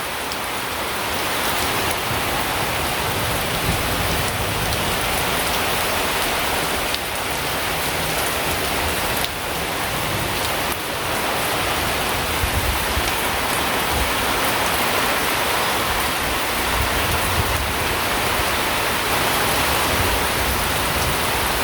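Rain falls steadily in a village while a strong wind gusts, a loud, even hiss of drops and rushing air carrying on without pause and with no voices.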